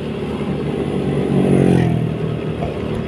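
An SUV drives past on a snowy road, a loud revving engine swelling to a peak midway then fading, with some clatter and no talk.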